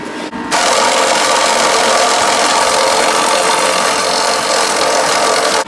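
A refrigerant recovery unit in purge mode during a compressor change-out, running with a steady loud whirring, hissing roar that starts abruptly and holds constant to the end.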